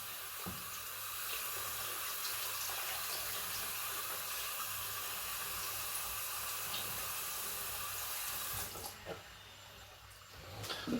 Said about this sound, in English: You give it a quick rinse in the cold water.